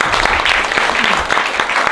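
An audience claps at an exhibition opening for local artists, a dense burst of steady, close applause with a voice faintly underneath.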